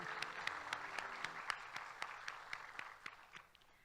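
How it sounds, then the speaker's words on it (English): Audience applause for Miss Cherokee pageant contestants, a steady round of clapping that carries on for several seconds before tapering off near the end. "Let's give our contestants for Miss Cherokee another round of applause."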